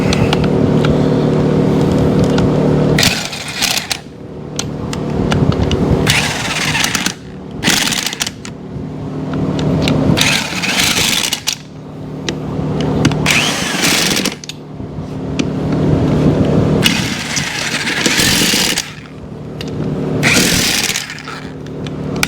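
Impact gun removing wheel lug nuts on a 1949 Willys, loud close bursts of rattling hammering repeated in several runs of two to three seconds with short gaps between.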